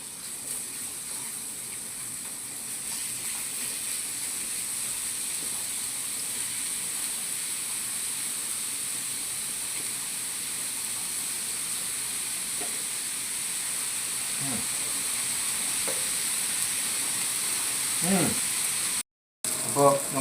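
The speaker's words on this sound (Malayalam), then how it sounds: "അതിലേക്ക് കുറച്ച് ബട്ടർ അതിലേക്ക് ഇട്ട് കൊടുക്കുക. നമുക്ക് ചിക്കൻ അതിലേക്ക് നിരത്തി വെക്കാം." Chicken pieces fry in butter in a hot pan, a steady, even sizzle and hiss running the whole time, with a few soft clinks near the end.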